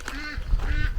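Geese in a Romanian village give a couple of loud, nasal honking calls from close by, with no voices over them.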